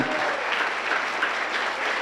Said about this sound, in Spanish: le demos el más grande de los aplausos que le podamos dar al único que es digno